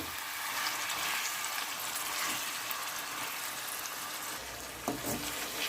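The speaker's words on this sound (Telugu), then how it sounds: "ఇవి చక్కగా వేపేసుకోవాలి మనము" Chicken curry ingredients, chicken pieces among them, frying in a pan give a dense, even hiss of sizzling oil, steady and close, with a brief stir or scrape near the end and no speech.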